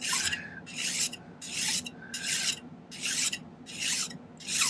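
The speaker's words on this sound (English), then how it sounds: "Filing a perfectly flat edge is one of those things that's hard for people at first" A metal file worked across the edge of a silver kite pendant to make it flat, seven even rasping strokes in a steady back-and-forth rhythm, close and clear with no talking.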